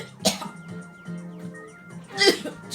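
Two short, sharp coughs, one near the start and another near the end, with low murmuring in between and no clear speech.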